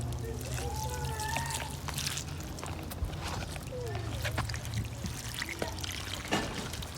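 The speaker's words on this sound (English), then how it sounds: "All we need to do is water them with some rainwater." Rainwater poured onto snapdragon plants in a garden, a steady trickling and splashing stream running throughout, with birds chirping in the background and a voice speaking over it.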